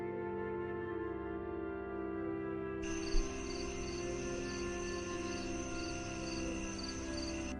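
Crickets chirp at night in a steady, continuous drone of layered insect trills, with a brighter high-pitched pulsing chorus joining partway through and holding evenly to the end.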